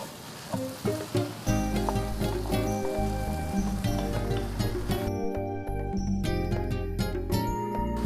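Pad thai with shrimp and coarsely ground roasted peanuts stir-fried in a pan, giving a loud, continuous sizzle with scraping and tossing sounds close up; the frying quiets partway through.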